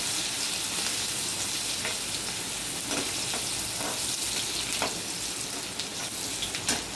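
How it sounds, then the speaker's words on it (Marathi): Chopped onion frying in a pan for cauliflower bhaji, a loud, even hiss and crackle with occasional spatter pops and stirring sounds, continuous and close throughout. "कांदा आपला टाकून झाला आहे. त्याच्यात मग थोडासा फ्राय करून घेऊया आपण."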